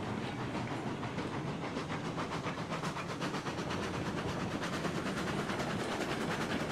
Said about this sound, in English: Let's move the train onto the bridge.